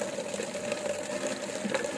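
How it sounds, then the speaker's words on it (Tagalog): Water pours steadily into a homemade pig drinker, a continuous splashing, rushing fill that is close and even, with no talk. "So lalagyan natin ng tubig."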